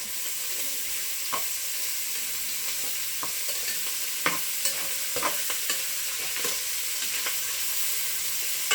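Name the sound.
bacon and andouille sausage searing and browning in pan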